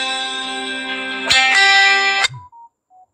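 Phone tone during a call, a loud steady electronic buzzing tone that rises in pitch partway through, then cuts off into a few short faint beeps.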